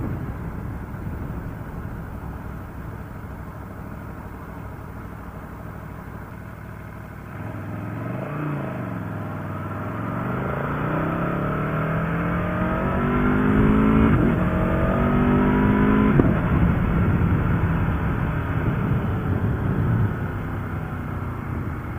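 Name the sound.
sport motorcycle engine riding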